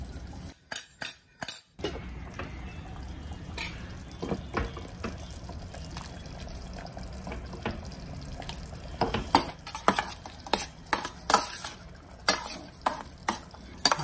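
A spoon stirring ghee into hot varutha aracha kuzhambu in a pan, with scraping strokes and sharp metallic clinks against the vessel, a few loud knocks at the start and a busier stretch of clatter toward the end.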